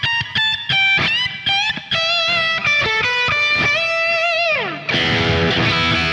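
Electric guitar plays a pentatonic lick with passing tones and many string bends of varying depth, crisp picked notes bending up and sliding, ending on a sustained, slightly distorted chord; loud and close, with no voices.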